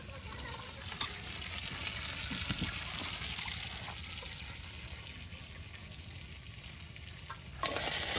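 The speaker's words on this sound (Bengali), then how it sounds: "পেঁয়াজ রসুন কুচিগুলো একদম ভাজা ভাজা হয়ে যাচ্ছে" Chopped onion and garlic fry steadily in a pan during rustic village cooking, a continuous moderate sizzle with occasional scrapes from stirring and a brief louder burst near the end.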